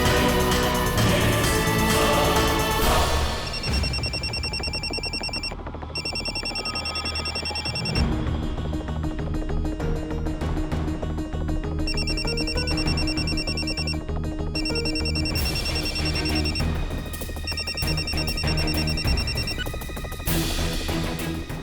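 An unanswered telephone rings repeatedly in a domestic drama scene, its electronic ring tone recurring in bursts over a steady layer of background music with no talking.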